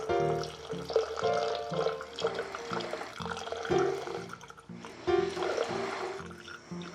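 Spirit is free poured for a martini, a close gurgling glug-glug of liquid with a steady rhythmic pattern for several seconds.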